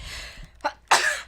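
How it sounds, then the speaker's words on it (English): A single sneeze erupts in a studio-style conversation, a short intake followed by a loud, bright burst that ends the clip, with a brief murmured sound just before it. "Like sneezing when you're on air."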